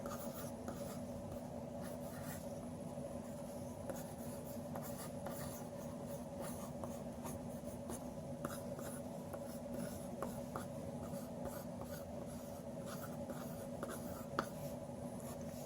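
A pencil sketches a head and shoulders on paper, a faint continuous scratching and rubbing of graphite that runs steadily throughout, close up and quiet, with no talking.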